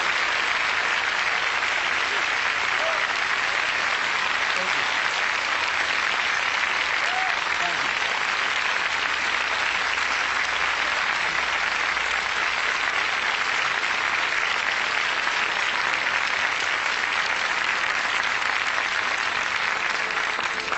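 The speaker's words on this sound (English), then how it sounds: "Let's give Mrs. Rosa Parks a round of applause" Sustained, steady applause from a large crowd for Rosa Parks, dense and unbroken clapping filling the whole stretch without pause.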